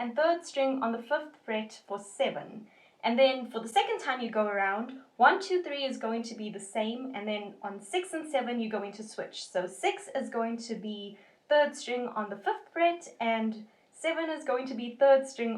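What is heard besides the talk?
None of the usual background noises is heard.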